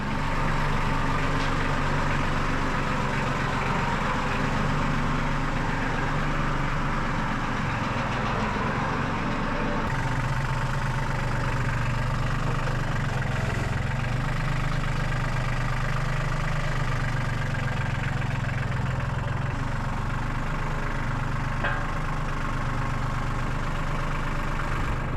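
A tractor engine idles in a steady, low, continuous rumble that stays close and even throughout, with no talking.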